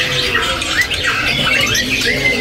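A caged white-rumped shama (murai batu) at a bird market gives loud, close, harsh squawking calls in rapid repeated bursts, with busy background noise around it.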